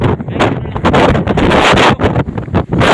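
Strong typhoon wind buffets a microphone at the end of a pier where an elderly man fishes. The gusts roar loud and continuous for the full stretch, rising and dipping in waves, with no talk.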